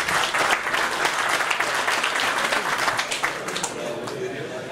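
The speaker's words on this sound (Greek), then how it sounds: "Και πραγματικά σας αξίζει ένα χειροκρότημα." A dense, steady wave of audience applause fills a New Year's pie-cutting gathering of the New Democracy party, sustained throughout at a constant, loud level.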